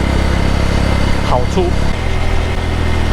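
A motorcycle engine idles in Singapore with a steady, close low hum while someone talks over it.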